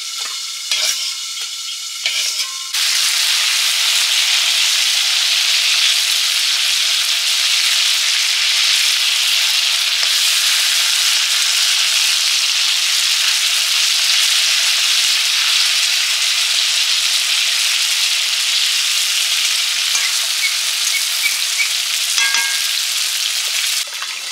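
Food sizzling as it fries lightly in hot oil, a steady loud crackle running almost unbroken, with a few quieter scrapes and clinks at the start.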